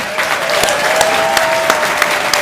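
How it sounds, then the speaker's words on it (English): Loud, dense applause from a large audience at a business summit, steady clapping filling the whole stretch without pause. "let's give a big round of applause"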